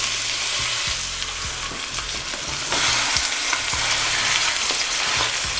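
Lamb shanks sear in hot oil in a pan, giving a steady, loud sizzle with crackling and small bursts of spatter throughout, and no voices.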